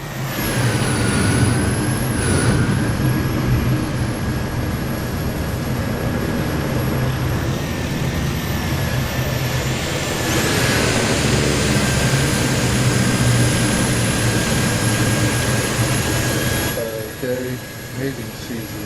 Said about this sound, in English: I hear a jet.